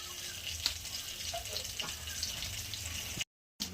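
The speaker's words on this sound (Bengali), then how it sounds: "একটু তেল দেবো, একটু কালো জিরে ফোড়ন দিলাম" Nigella seeds crackle in hot oil in a pan, giving a steady close sizzle with faint scattered pops. A short drop to silence comes near the end.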